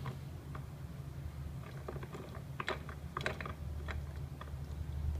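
A filter is twisted hand tight during an Oasis annual service, giving faint, close clicks, creaks and rubbing taps of the canister turning, quiet and without speech.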